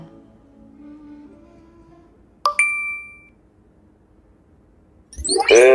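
A single bright message-notification ding rings out clearly after near silence, its tone lingering briefly before fading, followed later by a louder burst of unrelated noise.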